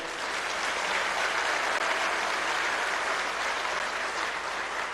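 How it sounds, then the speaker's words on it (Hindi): Audience at a university convocation in Himachal applauding steadily for the full stretch, a dense, even wash of clapping from a large crowd with no talk over it. "ताली नहीं बजेगा?"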